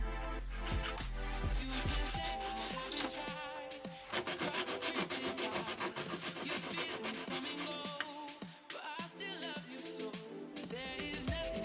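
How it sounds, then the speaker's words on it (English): A resin block is shaped by hand with a saw and sandpaper into a fishing-lure float, giving repeated rhythmic rasping and scraping strokes, close and continuous. "Using a saw, sandpaper, I create the shape of the float."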